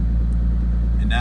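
A Lexus SC300 with a 2JZ engine converted to run on E85 fuel, idling steadily with a deep, even low-pitched rumble close by, with a brief higher mechanical whine creeping in near the end.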